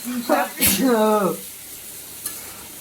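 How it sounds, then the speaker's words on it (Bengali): Potato and plantain pieces fry in a pan with a soft, steady sizzle. A voice speaks over the start, and the frying continues faintly and evenly on its own afterward. "এই যে আলু কলা ভাজছি"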